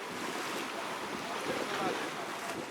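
Ocean waves wash steadily against a quay in Cité Soleil, Haiti, as a continuous broadband surf roar, with wind noise buffeting the microphone throughout.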